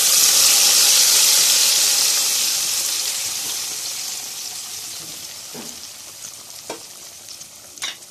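Fried garlic tipped into mutton in a hot pan for lehsan gosht, giving a loud steady sizzle that slowly fades, with a few sharp clinks of a spoon or pan near the end.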